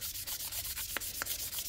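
A stiletto knife being hand sanded, rapid rhythmic back-and-forth rubbing strokes of abrasive on metal, close and fairly quiet, about a dozen strokes in quick succession.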